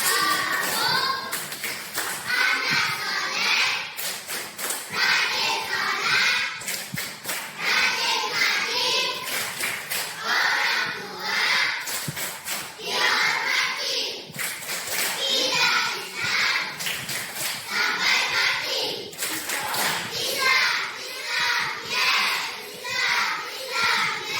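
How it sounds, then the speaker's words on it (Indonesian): Children chant the Tepuk Anak Soleh clapping routine in a classroom, with rhythmic bursts of hand claps and young voices, loud and close, continuing steadily throughout. "mari kita tepuk anak soleh dulu. Tepuk anak soleh."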